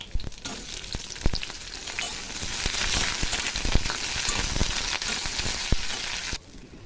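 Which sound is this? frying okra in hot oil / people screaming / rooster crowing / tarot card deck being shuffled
frying okra in hot oil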